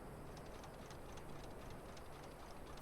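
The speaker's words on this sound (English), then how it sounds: "Alright, let's see this armored train." An armored train from the Final Fantasy XIV Dawntrail video game rumbles along with steady rhythmic clatter, faint and continuous beneath a soft hiss, no voices heard.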